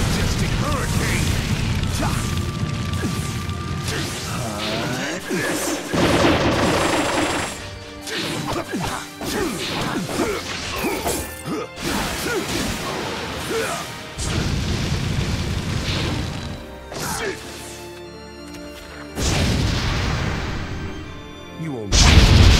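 Fire Style Majestic Hurricane attack in Naruto Shippuden: Ultimate Ninja Storm 4, with loud crashing booms, whooshes and impact hits running continuously throughout alongside character voices.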